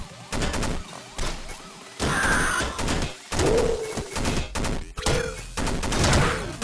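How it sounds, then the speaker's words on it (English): Rapid bursts of video game machine-gun fire in Downwell crackle loudly in several long volleys, mixed with chiptune effects and higher tonal blips between shots. "Machine gun."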